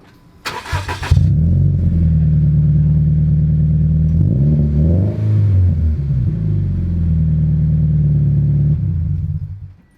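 A Scion FR-S/Subaru BRZ/Toyota 86 fitted with an Invidia N1 exhaust, before headers: a brief click, then the engine idles loudly and steadily, rises in a short rev near the middle and settles back before cutting off.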